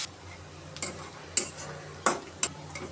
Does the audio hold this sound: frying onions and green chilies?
yes